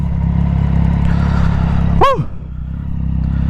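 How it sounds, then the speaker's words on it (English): A sport bike fitted with a new exhaust burbles steadily close by, then snaps out one sharp downshift blip about two seconds in before settling back to a rumbling idle, with a short exclaimed voice over it. "those downshifts with the new exhaust, dude, oh my god, sounds so freaking amazing"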